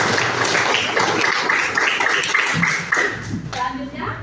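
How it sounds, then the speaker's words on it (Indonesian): Steady applause from a classroom full of students, dense and fairly loud, with a few voices mixed in near the end. "Yuk, tepuk tangan."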